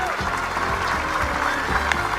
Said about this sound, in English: I don't need your clapping.